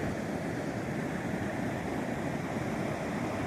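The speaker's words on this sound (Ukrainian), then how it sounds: "І море шумить" Sea waves at night near a seaside promenade, a steady broad wash of surf rolling continuously with some wind rumble, loud and close with no talk.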